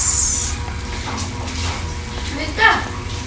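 Garlic and onion sautéing in hot oil for minudo, a soft hiss with a brief louder sizzle burst near the end, a voice faintly present underneath.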